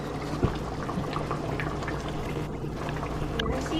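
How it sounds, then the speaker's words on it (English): Jollof rice sauce bubbles in a pot on the stove, with a continuous soft simmering burble and faint popping from close by, steady throughout. "y'all see how it's boiling?"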